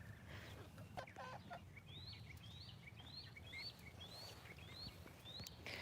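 Chickens cluck and chirp inside a chicken tractor moved onto a garden patch, soft repeated calls at a moderate distance over low outdoor background noise.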